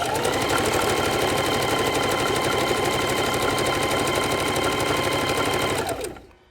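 A sewing machine stitching a quilt, a fast steady mechanical whir with rapid needle ticking, close and continuous, stopping abruptly near the end.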